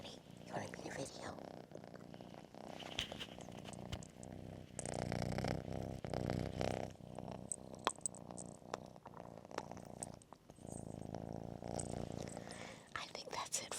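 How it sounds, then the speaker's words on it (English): A house cat purring up close in a quiet indoor room, a soft continuous rumbling drone that swells and fades in long stretches, alone without talk. "Let's see if we can hear her purring."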